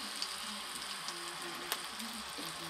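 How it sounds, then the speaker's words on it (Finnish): A steak fries in a pan for pepper steak, a faint, steady low sizzle with a few soft pops and crackles. "Kun pihvi pannulle vaan ja se saa siinä kypsyä."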